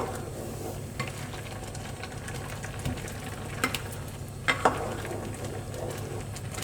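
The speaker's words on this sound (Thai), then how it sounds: "เดือดแล้วมันเดือดแล้ว" Pineapple jam cooking down in a pot on the stove, giving a steady low bubbling hiss with a few soft scrapes and knocks from stirring, close and moderately loud throughout.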